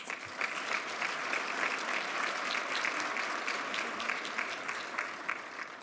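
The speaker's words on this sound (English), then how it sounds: "Let's give James a warm round of applause." An audience at a business fireside-chat event gives a warm, sustained round of applause to welcome a speaker, dense and steady clapping from a room full of people throughout.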